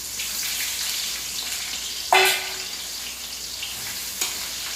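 Onions added to hot oil, bursting into one loud sudden sizzle that slowly fades over a steady background hiss, followed later by a brief clink.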